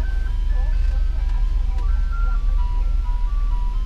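An ice cream truck's tinkling electronic jingle plays steadily over a low engine rumble, close by, with a voice talking faintly in the background.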